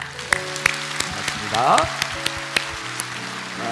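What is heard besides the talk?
congregation applauding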